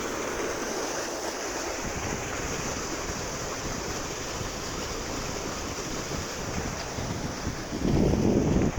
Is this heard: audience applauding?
no